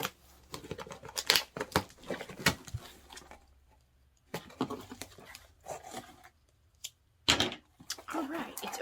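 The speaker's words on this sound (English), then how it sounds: "Got my scissors." Scissors snip and cut open a package of 90s children's books, with crinkling and tearing of packaging in bursts of close, crisp cuts separated by brief pauses.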